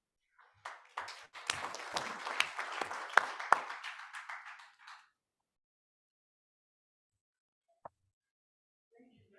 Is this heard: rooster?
no